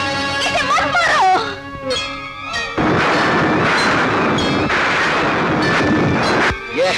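Gunshots ring out in an Indian action film scene, several sharp reports loud and close over a dense roar of score and crowd noise, with a voice in the background.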